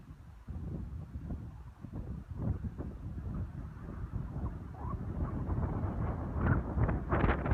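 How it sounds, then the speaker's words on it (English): Gusty wind on the Arizona Trail outside Flagstaff blows as a low, continuous rumble of mic buffeting that swells toward the end, fairly quiet overall with no talking. "but it's so windy."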